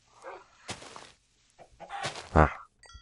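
Chicken clucking in a medieval survival video game, several short bursts of fowl clucks and squawks with brief gaps, moderately loud with a sharper final cluck near the end.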